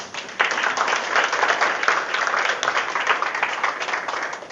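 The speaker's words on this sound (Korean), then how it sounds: "하나님께 영광의 박수를" Steady, full applause from a church congregation, a continuous wash of many hands clapping at close range for several seconds with no talk over it.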